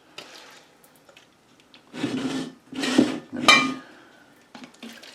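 A cloth soaked in rubbing alcohol wipes a surface before making sauerkraut, in four or five short, close rubbing swipes separated by quiet pauses.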